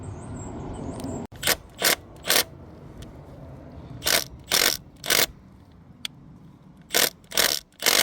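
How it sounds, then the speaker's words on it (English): A corroded, seized glow plug on a Ford Transit being worked loose, heard as a series of short, harsh bursts from an impact tool in irregular clusters against a quiet background. "this is the plug coming out"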